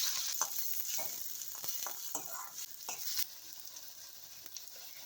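Small shallots sizzling and frying in a pan with mustard seeds and curry leaves for sambar, a steady close crackle with stirring scrapes and brief pops, no voices.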